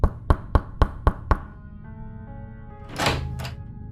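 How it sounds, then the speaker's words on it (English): Six sharp knocks on an apartment door, quick and evenly spaced, close and loud, followed by a quiet room tone and a brief muffled rustle near the end. "I went and knocked on James's door."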